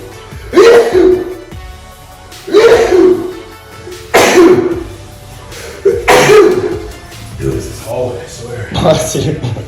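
Several sneezes burst out one after another at roughly two-second intervals, loud and close, each a sharp explosive gasp, with a few fainter throat sounds near the end.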